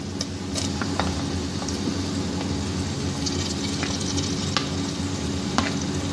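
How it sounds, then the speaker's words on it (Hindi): Tomatoes frying with onions in a pan for a masala dish: a constant close sizzle with stirring scrapes and occasional sharp clicks of the spoon against the pan, no voices. "अब मैं टमाटर को अच्छी तरह भून लूँगी"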